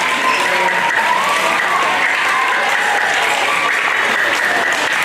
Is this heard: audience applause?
yes